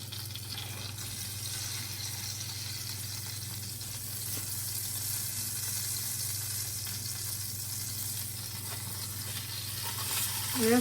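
Food fries in a pan with a steady, even sizzle over a constant low hum, close and unbroken throughout. No one speaks.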